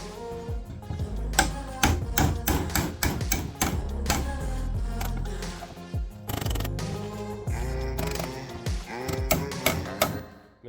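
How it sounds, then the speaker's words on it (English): Small hammer pounding bolts through a soil sifter frame built from an old reciprocating saw, a run of sharp metallic knocks in irregular rhythm, close and loud, with a few pauses between strikes. "Sometimes you may have to pound them in."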